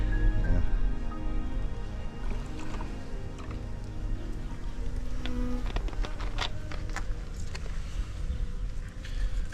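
African honeybees from a swarm buzz in a continuous droning hum, individual insects swelling near and fading, with faint clicks and taps mixed in.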